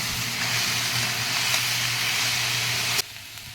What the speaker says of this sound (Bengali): দিয়ে মোচাটাকে ভেজে নেব